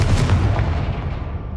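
A Confringo fire spell bursts in the Hogwarts Legacy video game: one heavy, booming blast, loud and close, with a deep rumbling tail that slowly fades, no voices over it.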